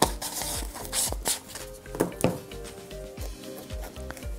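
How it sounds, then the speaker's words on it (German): A palette knife spreads gritty rust texture paste across a canvas, giving short rasping scrapes and rubbing strokes in an uneven rhythm, close and fairly quiet. "ich spachtel jetzt einfach mal hier"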